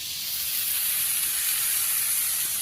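Vegetables with salt, turmeric, chili powder and green chilies fry in a pan, giving a steady, close, loud hiss and sizzle with no pauses and no talk.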